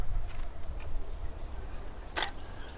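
A single crisp camera shutter click, close and fairly quiet, sounds once against soft room noise at a fast shutter setting of about 1/500 second.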